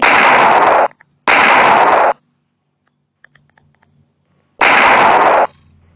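Three loud, sharp gun blasts from a Pixel Gun mod weapon in Minecraft PE, each a broad burst lasting nearly a second, the first two close together and the third after a quiet gap with faint clicks.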